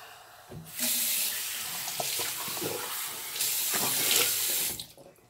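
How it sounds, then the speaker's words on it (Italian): Tap water gushes into a bathroom sink while a face is wetted before a wet shave, a steady close rush that shifts slightly as hands move under the stream, then stops. "bagniamo ancora un attimo il viso"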